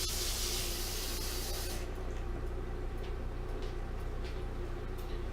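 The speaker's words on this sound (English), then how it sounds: "we're going to go ahead and rinse the grains. This step is called sparging." Hot water pours over brewing grains to rinse them for a Mr. Beer stout recipe, a steady splashing spray that cuts off about two seconds in, leaving faint drips and a low room hum.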